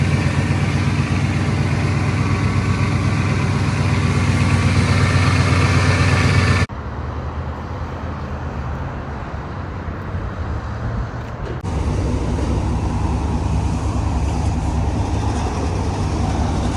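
An OBS truck engine running steadily after a new transmission install, a loud continuous drone with a sudden drop in level partway through, then a slight rise again, with no talk.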